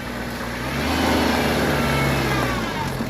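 A car engine runs steadily as the vehicle drives in, a loud, continuous mid-range drone that swells slightly partway through, with no talking.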